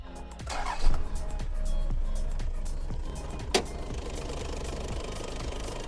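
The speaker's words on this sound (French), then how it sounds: "Allez, petit démarrage du moteur et je vous le présente." Toyota HDJ80 Land Cruiser with a 4.2-litre 1HD-T 12-valve inline-six turbo diesel and CT26 turbo, heard close as it fires up and settles into a steady, clattering diesel idle, with a brief sharp knock midway.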